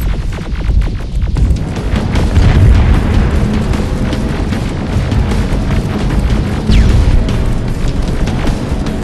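A grenade blast in the video game Terminator: Resistance gives a heavy, rumbling boom that rolls on in a dense, continuous roar of battle noise for several seconds, loud and close.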